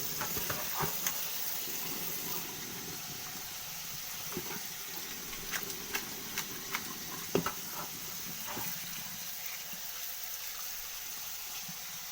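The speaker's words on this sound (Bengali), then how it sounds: "কিন্তু কলটা একটু চালিয়ে দিলাম। ঠান্ডা জলে এটাকে একটু ভালো করে ধুয়ে নেব" A kitchen tap runs steadily as boiled chow mein noodles are rinsed under cold water, making a soft continuous splash with scattered small clatters and drips.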